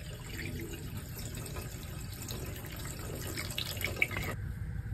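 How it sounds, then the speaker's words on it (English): Water poured steadily into an air-conditioner drain line after a vinegar cleaning, a continuous soft splashing trickle heard close and alone, cutting off near the end. "After 30 minutes, pour 1 gallon of water."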